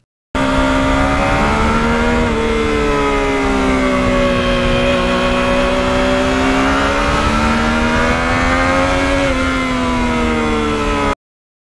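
A Yamaha MT-09 motorcycle engine revs loud and close with the throttle held open, a steady harmonic roar rising and dipping in pitch across the whole stretch, no voices.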